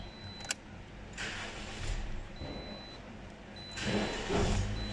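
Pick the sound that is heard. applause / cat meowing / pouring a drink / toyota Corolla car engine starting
toyota Corolla car engine starting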